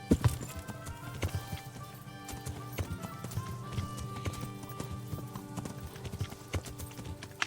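A horse's hooves clop rapidly in a galloping rhythm in the medieval video game Kingdom Come: Deliverance, close and steady over a low game soundscape with faint music.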